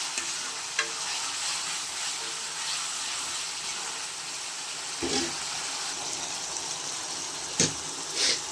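Ginger garlic paste frying in a pan for a Rayalaseema-style country chicken curry, a steady close hiss of sizzling oil with a few sharp clicks of a spoon against the pan.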